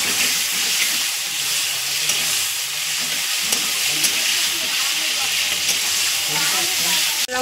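Oil sizzles steadily in a pan as chili and potato go in for a Nil Shashthi meal, a close, continuous frying hiss with small crackles and spatters throughout and no talk.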